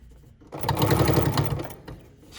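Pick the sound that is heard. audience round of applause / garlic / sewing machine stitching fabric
sewing machine stitching fabric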